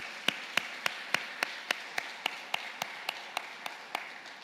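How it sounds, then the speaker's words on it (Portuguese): Steady rhythmic hand clapping during a sermon on financial advice from Proverbs: about sixteen crisp, evenly spaced claps at a quick beat, moderately close, with no voices over them. "Vamos dar uma salva de palmas para a terra?"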